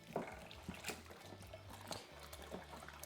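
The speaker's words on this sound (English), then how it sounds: "with my spoon, we're going to give this a good stir until the liquid malt extract" A spoon stirs liquid malt extract into boiling water in a pot for a lager home-brew kit, making soft sloshing liquid swirls and occasional light clinks of metal against the vessel, faint and continuous.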